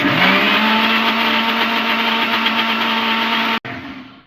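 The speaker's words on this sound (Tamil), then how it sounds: "நல்லா இப்போ மிக்சியில் போட்டு நல்லா அரைச்சிக்கலாம்." A mixer grinder whirs loudly and steadily with a high grinding whine while grinding sugar for several seconds, then cuts off abruptly and winds down.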